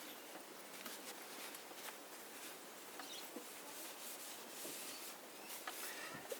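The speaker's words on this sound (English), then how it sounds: "we're just going to try and take the surface grit off it" Steady, faint rubbing as surface grit is worked off an antique sewing machine, a continuous soft scratchy friction with small irregular scuffs, close and alone without talk.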